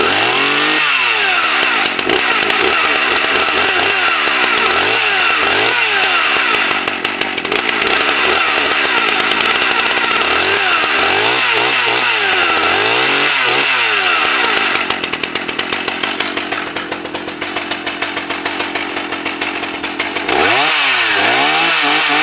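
A Husqvarna 162 SE 61.5 cc chainsaw without a decompression valve starts up and runs, its engine repeatedly revving up and falling back, then holding a steady high whine, loud and close with no talk.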